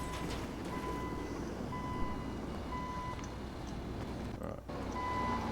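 A truck's reversing alarm beeps at a steady, repeating interval in a GTA video game, moderately loud over a constant rumble of engine and background noise.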